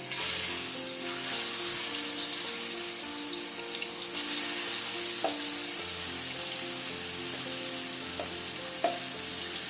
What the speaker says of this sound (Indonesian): Nah ini kita tumis sampai baunya ini wangi.